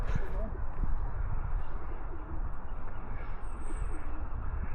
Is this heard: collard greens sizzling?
no